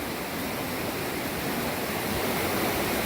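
Rushing stream water along the Appalachian Trail makes a continuous broadband wash, steady and fairly loud, with no voices over it.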